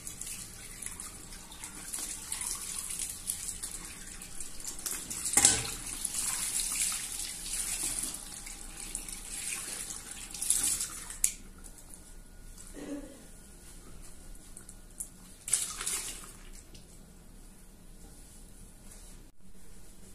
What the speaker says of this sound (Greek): ξεβγάζουμε πάλι κάτω από τη βρύση με μπόλικο νεράκι